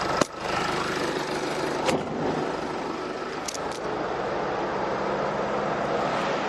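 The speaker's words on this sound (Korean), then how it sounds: "이 정도의 엔진 소음이 난다라고 알고 계시면 됩니다" Diesel engine of a Jeep Wrangler Rubicon idling with the hood open, a steady low rumble with a faint mechanical whine, close and even, with a few brief clicks.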